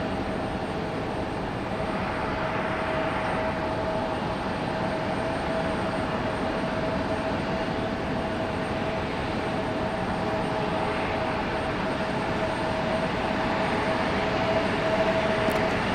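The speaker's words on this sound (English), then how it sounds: "told you guys we'd be having a JetBlue A220. Here it is." A JetBlue Airbus A220 airliner passes at Raleigh Durham International Airport, heard as a steady, broad engine roar with a faint whine, holding at a constant level throughout, without any speech.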